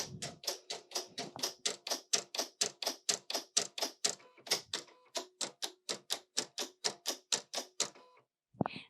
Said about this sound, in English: that clicking was the machine setting the blade to the right depth for that material